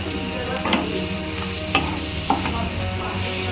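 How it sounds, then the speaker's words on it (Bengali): Chicken pieces fry in melted butter in a pan for a vegetable chicken soup, giving a steady, close sizzle throughout with a few light scrapes and taps of a stirring spoon. "চিকেনটা দিয়ে এর মধ্যে ভাজা ভাজা হয়ে যাবে।"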